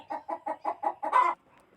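A chicken in the online multiplayer game GTA San Andreas clucks in a steady run of about seven evenly spaced calls, the last one louder, then stops.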